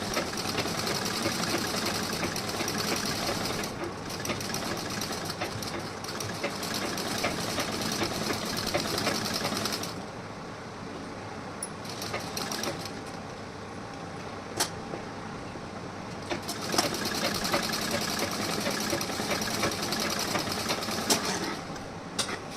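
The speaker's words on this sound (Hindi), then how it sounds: "इस तरीके से मैं यहाँ पे स्टिचिंग कर रही हूँ।" A sewing machine stitches around a blouse armhole, running in long continuous stretches with a brief quieter pause midway, close and steady with no talk.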